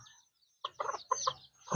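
Chickens cluck in a few short, close bursts separated by brief pauses, ending with a louder squawk.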